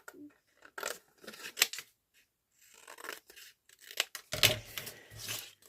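Scissors trim a paper bingo card for a junk journal, heard as close, crisp snips and rustling paper in short, irregular bursts with brief quiet gaps between them.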